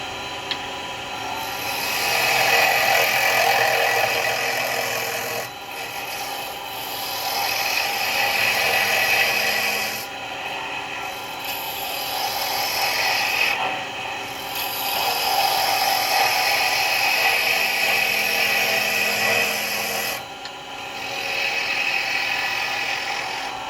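A skew chisel cuts a wooden ballerina spinning top on a spinning lathe, making a continuous close scraping whir in long stretches broken by short pauses as the tool lifts off.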